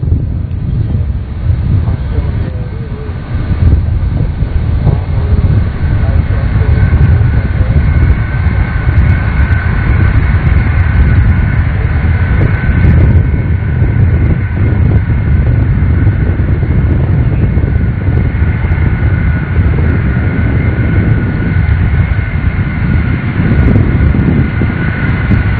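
A NASA Shuttle Carrier Aircraft, number 905, arrives at Kennedy Space Center carrying struts on top for mounting Space Shuttle Endeavour; its jet engines give a loud, steady roar mixed with heavy wind buffeting throughout.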